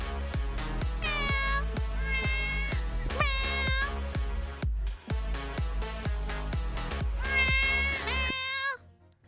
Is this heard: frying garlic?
no